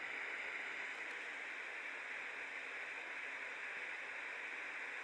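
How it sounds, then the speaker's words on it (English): A brook sound plays from a white noise machine alarm clock, a steady, soft rushing water hiss with no variation for several seconds. "So that's quite obviously the brook sound"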